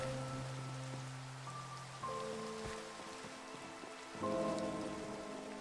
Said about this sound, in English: it's nighttime and it's raining